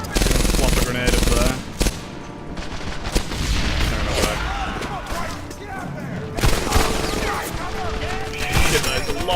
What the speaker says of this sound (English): Got a loud machine gun.